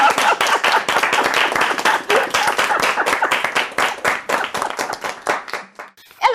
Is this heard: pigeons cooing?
no